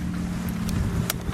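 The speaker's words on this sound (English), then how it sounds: "It's kind of windy." Wind buffeting a microphone aboard a sailboat, a steady low rumble with occasional sharp gusty pops, loud and close throughout.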